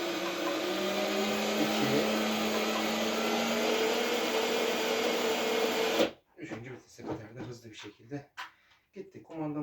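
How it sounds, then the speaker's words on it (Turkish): The motor of a Pilsan Tery Bery 12V battery-powered, remote-controlled ride-on toy car runs in first gear with a steady whirring whine for about six seconds, then cuts off abruptly as voices take over. "Birinci kademeye almak suretiyle gaza basıyorum."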